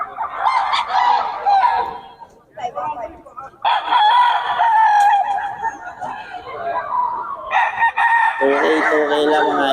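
Roosters crow repeatedly and loudly amid clucking chickens at a Bocaue market day, with several overlapping crows close by and some people talking in the background.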